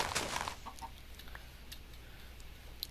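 Chicken clucking in the Minecraft video game, a few short clucks early on, fairly faint over a low background hum with no talking.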